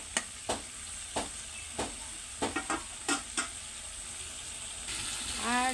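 Spice masala being stirred and sautéed in hot oil for a bottle gourd curry, with a steady soft sizzle broken by sharp spoon scrapes and clinks, no talking.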